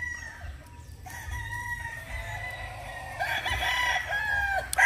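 Gamefowl stags kept for derby fighting crow and cluck nearby, several overlapping crows with rising and falling calls over a low rumbling background and no talk.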